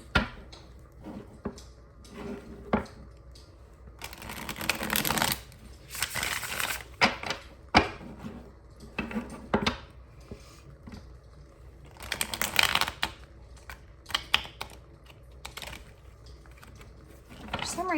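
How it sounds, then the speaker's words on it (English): Repeated papery riffling and soft slapping of a Wizard Tarot deck being shuffled, in uneven bursts with pauses and a few clattering taps between them. "this tarot deck, I always have a hard time shuffling it."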